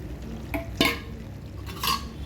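Ginger paste frying in a pan for chicken pickle, stirred with a utensil: a low constant sizzle under three brisk scraping strokes, close up, with no talking.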